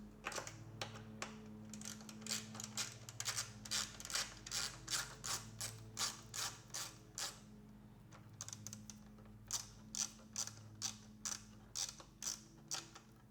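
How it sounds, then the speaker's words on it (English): A T20 Torx screw being turned out of the headlight area on a BMW R1200 GS Adventure motorcycle, giving a steady series of close, dry ratcheting clicks in even bursts over a low background hum, with no talking. "So you're going to have to take this screw off, a T20."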